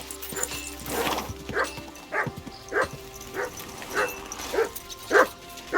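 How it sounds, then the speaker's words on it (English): A dog in the video game Kingdom Come: Deliverance 2 lets out a series of about eight short, evenly spaced barks and yips at close range. "Here, Mutt."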